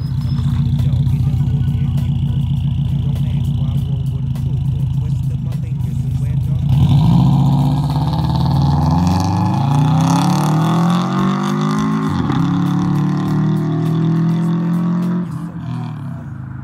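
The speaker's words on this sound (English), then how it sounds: "It's an exhaust clip when he first got his new engine put in" A 2017 Subaru WRX with a newly installed engine idles with a deep, throbbing exhaust burble, then revs and accelerates into a rising, raspy roar. The exhaust rises and falls through several pulls before easing off at the end.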